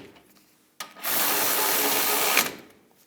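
A power tool spins parking brake bracket bolts down on a 2015-2022 Chevrolet Colorado rear brake, one close, loud whirring burst of about a second and a half after a brief click.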